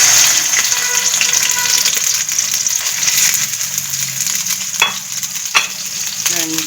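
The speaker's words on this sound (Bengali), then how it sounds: "এটা আমি তেলে দিয়ে দেব।" Stuffed pointed gourd potol dolma with a chicken mince filling fries in hot oil, a continuous loud sizzle with occasional stirring clinks and scrapes and no talk.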